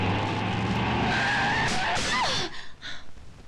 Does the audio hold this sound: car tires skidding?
yes